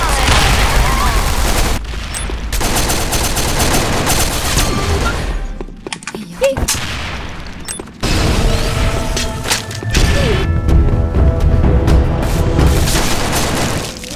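A grenade explodes in the Sudden Attack first-person shooter video game, with loud booms and bursts of gunfire amid chaotic battle noise and brief quieter gaps.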